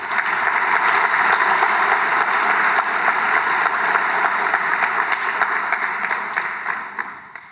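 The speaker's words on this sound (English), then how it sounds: "Let's please give them a round of applause." Sustained applause from a lecture audience at a history lecture series, dense steady clapping that holds strong for about six seconds and then tapers off, with no talking over it.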